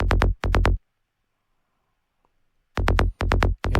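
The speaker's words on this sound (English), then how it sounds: "side techno or trance bass, sound like this without effects" A dry techno or trance bass synth with no effects plays short punchy low-heavy stabs in a rolling off-beat pattern, two bursts, a long silent gap, then four more, loud and alone.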